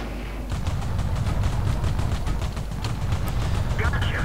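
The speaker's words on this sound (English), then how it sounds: "how powerful this gun is when you unload the whole clip into the side of a tank" The PzIc light tank's autoloader gun fires off a full clip in World of Tanks, a rapid run of sharp, loud shots in quick succession over deep engine rumble, with someone talking over the shots.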